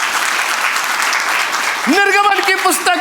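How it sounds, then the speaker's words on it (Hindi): A church congregation claps in praise during a Hindi sermon, a steady broadband patter of many hands filling the space, with a voice speaking over the last second. "तालियां बजा के प्रभु का धन्यवाद कीजिए।"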